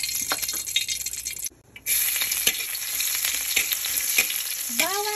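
Garlic fries in cooking oil for Filipino sautéed mung beans, with a loud, continuous sizzle close by, a brief dip in the middle and light metallic clinks, then a short rising tone at the end.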